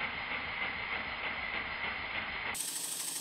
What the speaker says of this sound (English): I've slowed the engine down using the video editor to a quarter speed.